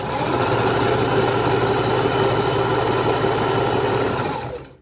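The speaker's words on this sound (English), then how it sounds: "I'm going to sew the piping on these side pieces." A sewing machine runs a stretch stitch attaching piping to leotard side pieces, a loud, close, continuous motor whir with fast even needle rhythm that winds down at the end.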